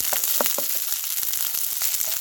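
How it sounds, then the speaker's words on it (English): Potatoes, garlic and chopped baby sweet corn fry in a pan, giving a close, steady sizzle with small pops and the occasional scrape of stirring. "I'm just frying up some potatoes and garlic and some baby sweet corns that I've chopped up"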